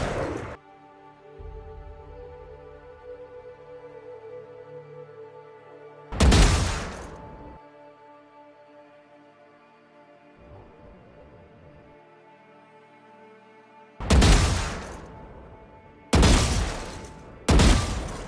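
Loud, isolated gunshots from a Guardian or Sheriff pistol fired on a video game practice range, one shot, then a long pause, then a rapid burst of three, each with a sharp crack and short decay, alone without talk.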